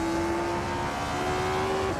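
A 1962 Porsche 804 vintage race car engine droning at a steady high pitch, loud and constant with a faint rise near the end, with no talking.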